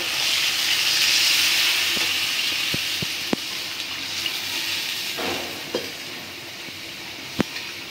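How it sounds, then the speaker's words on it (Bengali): Liquid is poured into a pan of sautéed hilsa fish curry at a village cooking fire, making a broad hiss and sizzle that slowly fades, with a few light taps and clinks near the end. "মাছটা কষানো হয়ে গেছে, এখন আমি ঝোল দিয়ে দিব।"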